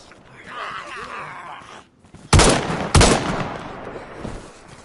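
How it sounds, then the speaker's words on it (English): Gunfire in the DayZ video game comes as two sharp, loud bursts about half a second apart, after a quieter stretch of murky game ambience with groaning, moaning sounds. "As you can hear, I caught their attention with my shooting."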